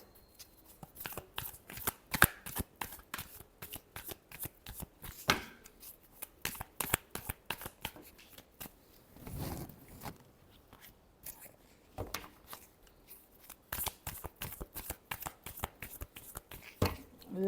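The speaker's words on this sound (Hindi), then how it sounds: "Last shuffle." Tarot cards are shuffled by hand in a quiet room, a long run of close crisp riffling flicks and taps in irregular bursts.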